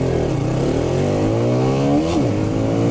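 A TVS Raider 125cc motorcycle in power mode accelerates hard in first gear, its engine note climbing steadily in pitch, loud and close, then dipping briefly near the end at a gear change.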